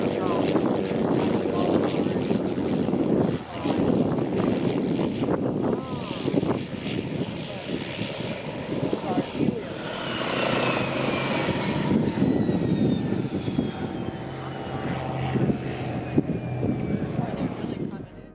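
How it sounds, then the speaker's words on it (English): Grand Caravan single-engine propeller plane taxiing out to an Arctic airstrip for takeoff: a steady, loud engine drone with rising propeller whine, continuous through the whole stretch with no voices. "we quickly loaded it up, and were soon taxiing out to the airstrip for takeoff"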